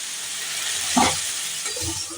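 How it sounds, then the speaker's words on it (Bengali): Raw mung dal poured gradually into a hot frying pan produces a brief, loud hiss and sizzle that swells once and settles back into steady frying noise. "এবার আমি আস্তে আস্তে করে অল্প অল্প করে ডাল ঢেলে দেবো"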